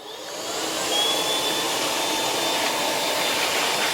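A Miele Duoflex HX1 stick vacuum runs on hard floors, its steady loud whirring motor hum rising at the start and then holding constant and close, with no talking.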